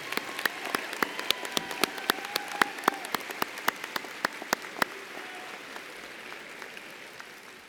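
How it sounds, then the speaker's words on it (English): Sharp, distinct claps ring out at a college commencement ceremony as faculty and staff are applauded, spaced and fairly regular at first, then fading into a softer wash of distant applause. "Please give them a big round of applause."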